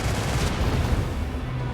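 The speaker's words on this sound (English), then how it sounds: "And then we're going to starboard cannon them." A starboard cannon barrage fires at a Sigil Destroyer in the video game Rogue Trader, producing a dense, continuous rumbling roar of rapid shots that stays loud the whole time, with no voices.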